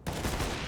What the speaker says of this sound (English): Headshot.